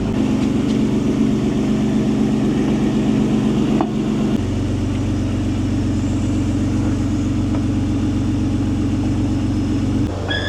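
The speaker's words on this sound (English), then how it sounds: "the cooling fan is moving air" A cooling fan runs on a high-mileage twin-turbo 1993 Acura NSX, a steady close whir of moving air over a low engine hum that steps down in pitch partway through and holds, with no voices.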